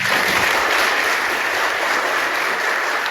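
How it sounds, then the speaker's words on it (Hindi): Loud, dense applause from a large crowd at a talk on heritage conservation in Jammu, steady and sustained throughout with no voices over it. "तो एक जोरदार तालियां सभी बच्चों"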